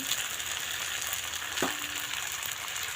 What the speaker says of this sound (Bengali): চলো আমি গরম জলটা এর মধ্যে ঢেলে দিই